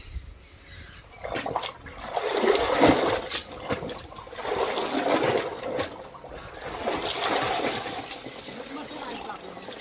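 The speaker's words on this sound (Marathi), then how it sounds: "कांद्याचं पाणी टाकायला पाहिजे झाडांना" Water splashes and trickles in a few long surging pours onto plants, with people talking nearby over the steady gush.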